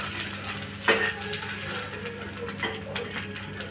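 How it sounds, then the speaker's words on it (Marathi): Food frying in a pan and being turned by hand on all sides, a steady soft sizzle with a brief clatter near the start and another light knock later, no talking. "असं हळूहळू हातानेच असं सगळ्या बाजूंनी"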